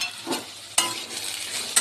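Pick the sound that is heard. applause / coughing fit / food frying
food frying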